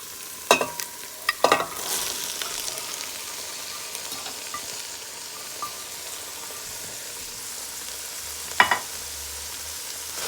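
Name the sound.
bora and carrot stirred and sizzling in seasoning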